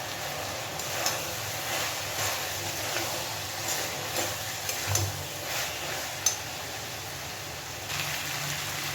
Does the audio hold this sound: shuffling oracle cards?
no